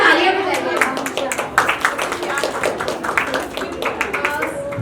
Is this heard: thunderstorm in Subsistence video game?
no